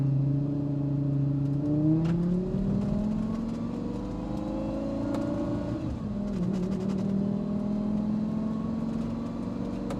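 A 2007 Lamborghini Gallardo engine revs and accelerates from first gear, its tone climbing steadily, dipping briefly as a gear changes, then droning on close by.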